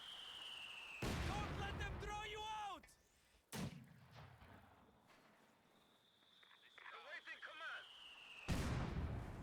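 Mortar and artillery fire in the real-time strategy game Company of Heroes 2: several sharp booming blasts and impacts separated by quieter stretches, with a commentator talking in between.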